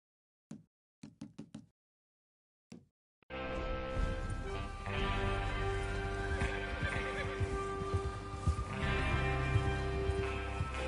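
Horses in the video game Red Dead Redemption 2: a few sharp knocks, then from about three seconds a dense, steady pounding of galloping hooves fills the rest, loud and close, with whinnies mixed in.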